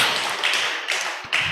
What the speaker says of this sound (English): A round of applause for Dr. Jagede once again.